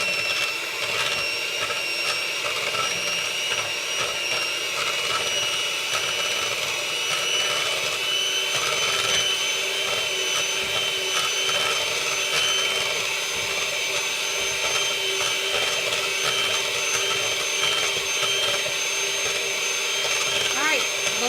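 An electric hand mixer whirs steadily in a bowl of pudding, a constant motor whine with a buzzing hum that holds unchanged for about twenty seconds.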